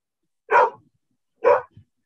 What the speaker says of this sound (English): Sorry, my dog is being very naughty.